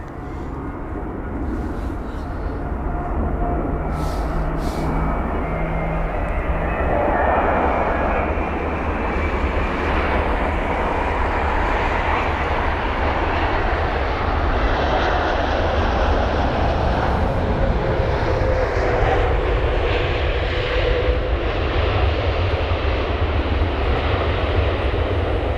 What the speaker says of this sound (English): We've got 2 more heavies behind. It's going to be a 777 and a 787,